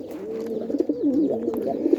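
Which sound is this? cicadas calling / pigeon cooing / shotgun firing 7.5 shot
pigeon cooing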